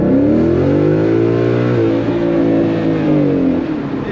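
A 2018 Ford Mustang GT V8 with a Corsa Sport catback exhaust revs up and down, a loud, close, smooth engine note that rises and falls through several swells.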